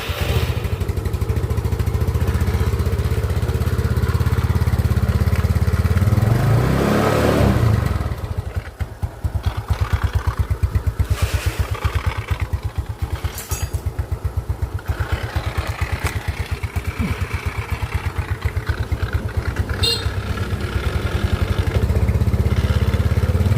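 A Yamaha Mio motorcycle engine starts and then idles close by with a steady, clattering putter that goes on loudly for the whole stretch.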